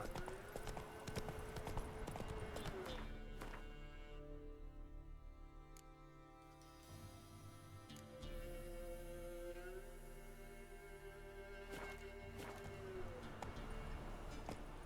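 Horse hooves clip-clop at a steady rhythm in The Witcher 3, clear and close over ambient game music and scattered effects, continuing for the full stretch.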